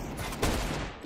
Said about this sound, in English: he just shot me through the wall